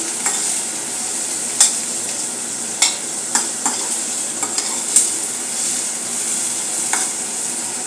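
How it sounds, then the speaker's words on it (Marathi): Onions sautéing in a pan for dum aloo gravy, a steady soft sizzle broken by sharp scraping clicks of a spoon stirring at irregular intervals, close and clear with no voices. "अशा प्रकारचा आपला कांदा होत आलेला आहे। आता आणखीन मिनिटभर याला परतून घेऊया।"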